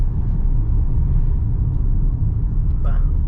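A 2022 MG HS PHEV plug-in hybrid SUV rolls over rough road, giving a steady, loud low rumble of tyre and road noise heard from inside the cabin, with a brief faint higher sound near the end.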